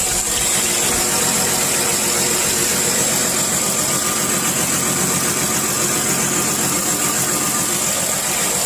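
A Chrysler Town & Country minivan engine idles steadily and loudly up close, with a continuous mechanical rumble and faint ticking, and no other sounds.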